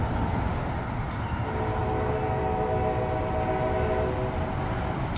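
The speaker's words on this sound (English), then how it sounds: "I don't think that horn that you just heard is for that westbound" CSX freight train horn sounding from a distance near Dorsey Station, a sustained tonal blast layered over rumbling rail noise, steady and moderately loud.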